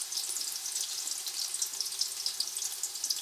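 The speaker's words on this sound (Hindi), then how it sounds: "कुकिंग ऑयल डाला है और ये डालने लगे हैं अब इसमें प्याज" Onions fry in cooking oil on a stovetop flame for a beef biryani, giving a soft, steady crackling sizzle that hisses continuously at close range with no voices.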